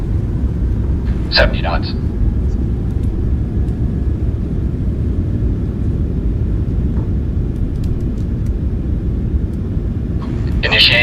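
Airliner engines roaring in reverse thrust during landing rollout in a flight simulator game, a loud steady low rumble throughout, with a brief callout voice over it.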